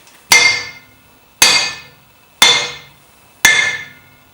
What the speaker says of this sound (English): a cast iron anvil like this has a very dull ring